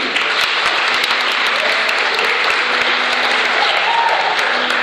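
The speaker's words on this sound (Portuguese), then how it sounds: "vamos aplaudir também" Sustained, even applause from a church congregation at an Assembleia de Deus temple festival, a thick wash of many hands clapping at once with a faint hum beneath and no break.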